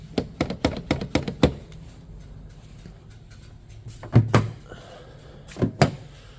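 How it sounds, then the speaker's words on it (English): A rapid string of mechanical clicks and clunks, then a pause, then two more pairs of thuds as the door and hatch locks of a 2006 Lexus LX470 actuate. "So we just want to make sure all these doors are locked, including the hatch."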